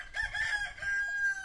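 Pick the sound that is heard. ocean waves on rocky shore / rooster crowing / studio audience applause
rooster crowing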